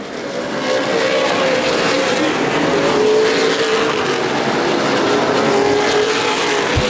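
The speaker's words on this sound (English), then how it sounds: "Five cars really racing hard for second, third, fourth, fifth, and sixth." Race cars in a CRA Super Series race at Anderson Speedway roar continuously as a pack battles hard, a loud, dense engine drone with shifting pitch from several cars running close together throughout.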